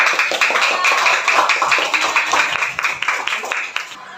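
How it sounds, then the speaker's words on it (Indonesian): A classroom of schoolchildren clapping together in a lively, fairly loud burst of uneven hand claps that runs steadily for a few seconds before tapering slightly. "Ayo kita beri tepuk tangan buat"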